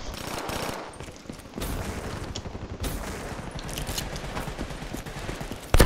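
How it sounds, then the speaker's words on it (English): Rapid automatic gunfire rattles in Call of Duty Black Ops 3, sustained bursts of dense shots running almost continuously, loud and close, with a sharp shot at the very end. "Someone's shooting at us."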